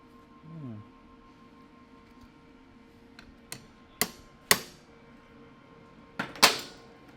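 Several sharp metallic taps of a ratchet on metal ring out one at a time, then a quick double tap near the end, against a quiet room hum.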